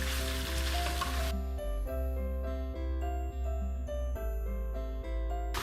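Tomatoes go into a sizzling chicken karahi, giving a loud burst of frying for about a second before it settles into a steady, close sizzle with light tinkling of the pan throughout.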